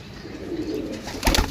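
A rare Farsi pigeon coos softly and close by in one brief, low, throaty murmur, ending in a sudden thump or flutter.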